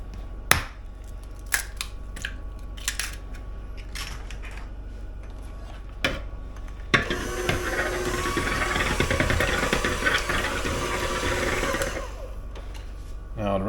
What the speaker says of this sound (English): And this bowl now, the first thing we're going to do is lightly beat 2 eggs.